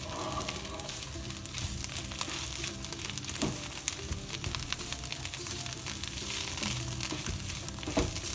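Saag bhaji, spinach greens cooking in a pan, sizzling and frying steadily throughout with a dense crackle and occasional louder pops, no voices.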